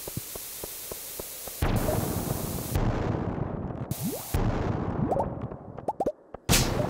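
Bombs going off in Stardew Valley mines: several sharp bursts of noise break out in turn, each followed by decaying rumble and scattered small pops and ticks, with brief quiet gaps between blasts.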